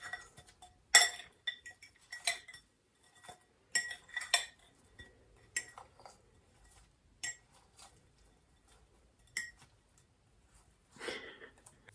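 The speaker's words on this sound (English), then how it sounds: "So I'm just doing salt and pepper and give it a mix" Cutlery scrapes and clinks against a dish while potatoes are tossed with salt and pepper, with quiet, intermittent taps and stirring sounds spaced out, close by.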